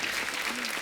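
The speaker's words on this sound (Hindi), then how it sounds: "एक बार इनकी फिटनेस के लिए जोरदार तालियां हो जाए यार" Studio audience applause on an Indian TV comedy talk show set, a dense, steady burst of clapping that fills the short moment at close range, with no talk over it.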